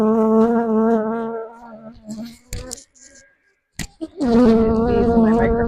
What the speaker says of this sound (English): Bees in my microphone